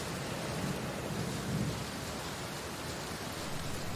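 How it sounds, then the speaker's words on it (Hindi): Heavy rain pours steadily in a thunderstorm, a dense continuous hiss with low rumbling thunder swelling beneath it, loud and unbroken for the whole stretch. "भयंकर तूफान आया। काफी मूसलाधार बारिश होने लगी।"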